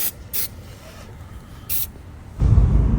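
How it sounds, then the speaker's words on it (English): Several short hissing bursts from a WD-40 aerosol can sprayed inside a Nissan Kicks, spaced unevenly, followed by a louder rumbling noise at the end. "I tried spraying some WD-40 lubricant"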